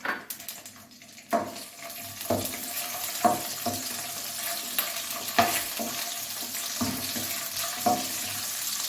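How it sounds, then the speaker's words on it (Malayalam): Black raisins fry in a spoonful of ghee for sesame payasam, a steady soft sizzle broken by repeated sharp spoon scrapes and taps against the pan at irregular intervals, no talk. "ആദ്യം നമുക്ക് മുന്തിരിങ്ങ വറുത്തെടുക്കാം."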